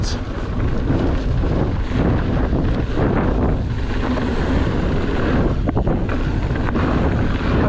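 Wind blows hard into the microphone in Death Valley, a constant loud low buffeting rumble that lasts throughout.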